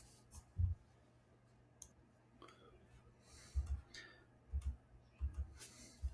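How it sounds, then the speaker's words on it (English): Calculator keypad presses while numbers are entered into a statistics list, scattered soft thumps and clicks in small groups, quiet and close. "Now I'm going to type all those numbers into my list."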